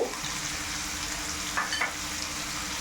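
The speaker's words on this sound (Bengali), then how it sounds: "এখন আমি চিকেনের মধ্যে দিয়ে দিচ্ছি ভেজিটেবলসগুলো।" Vegetables such as papaya, carrot and cauliflower hit chicken frying in a pan, a continuous hiss of sizzling oil with a few brief clatters of stirring, close and moderately loud, with no voices.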